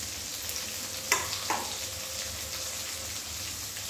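Cumin seeds and two cut red chillies crackle in hot oil, a steady fine sizzle with a couple of sharp pops and stir scrapes near the start, no voices.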